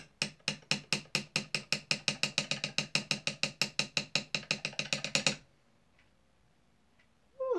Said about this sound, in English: Let me get a slightly more heavy-duty file.